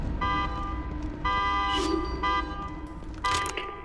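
A car alarm in The Evil Within 2 horror game blares in repeating electronic tonal bursts, loud and steady, cycling several times without talk.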